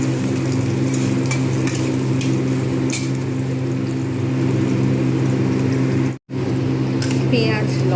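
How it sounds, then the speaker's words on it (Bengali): Green chillies and onion frying in hot oil give a loud, steady sizzle up close, with faint stirring clatter and a brief cut near the end. "এই তেলেতে আমি কাঁচা লঙ্কা এবং পেঁয়াজ আমি দিয়ে দেবো, একসঙ্গে এটাকে ভালোভাবে ভেজে নেব।"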